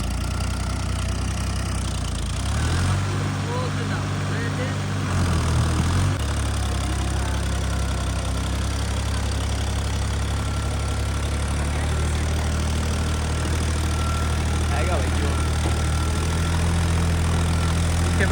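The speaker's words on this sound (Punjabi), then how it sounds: "ਟਰੈਕਟਰ ਦਾ ਬਾਈ ਆਪਣੇ ਵੱਲੋਂ ਪੂਰਾ ਜ਼ੋਰ ਲਾ ਰਿਹਾ" A Ford tractor hauling a double-tyred trolley through a muddy field, its wheels slipping, drones with a heavy, continuous low engine note that briefly shifts in load partway through.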